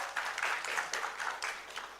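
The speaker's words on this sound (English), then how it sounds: "So please give a round of applause." Audience applause at an academic rural health colloquy in Raipur, a steady wash of many hands clapping, moderately distant and fairly quiet throughout.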